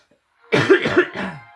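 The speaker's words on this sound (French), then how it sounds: "je vais tousser un bon coup" A single harsh cough bursts out close up, breaking into two or three rough chesty pulses before trailing off, preceded by near silence.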